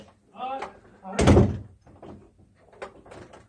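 Basement door moving by itself, a loud wooden thunk and rattle in the middle with softer knocks after, while people talk nearby.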